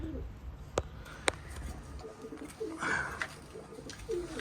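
Pigeons in a loft coo softly in short, low phrases, with a couple of sharp clicks or wing taps and faint rustling around them; the sounds are moderately near but quiet.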